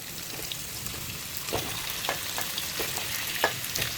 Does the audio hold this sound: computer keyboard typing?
no